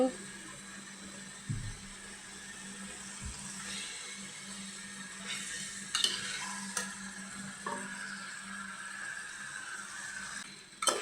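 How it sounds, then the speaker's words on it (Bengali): Meat sizzling with spices in a pan, a steady close frying hiss with occasional scrapes and knocks of a spoon against the metal, and a faint voice speaking now and then underneath. "এখন মাংসগুলো দিয়ে দিলাম। আর মাংসগুলো দিয়ে ভালো করে কষিয়ে নিব।"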